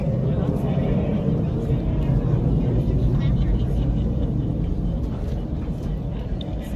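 A Blue Angels jet taxiing at NAS Pensacola, a loud, steady low rumble of engine noise that holds continuously close by throughout, with crowd or announcer sound faintly mixed beneath.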